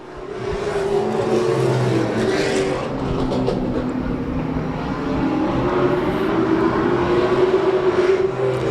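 Race cars lapping Claremont Motorsports Park during the final laps, a steady loud roar of several engines held at speed throughout with no break, the pack droning on without a voice over it.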